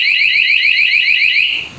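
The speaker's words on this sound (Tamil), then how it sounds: "அலாரம் அடிக்கும் வண்டியை டச் பண்ணாலே" A motorcycle security alarm, set off by touch, sounds a loud, steady electronic warble of rapidly repeating rising chirps close by, fading slightly at the very end.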